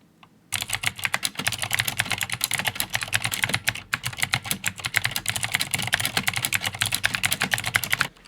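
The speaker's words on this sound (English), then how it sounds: "here's the Das keyboard" Rapid, steady clacking of a Das mechanical keyboard's keys, close and loud, continuing without pause after a brief quiet start.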